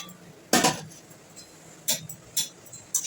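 The metal lid of a cooking pot holding potato curry with ridge gourd and shrimp being lifted off, a sharp clank followed by a few lighter clinks of metal against the pot rim, close and brief.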